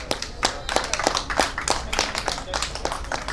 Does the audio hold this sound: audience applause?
yes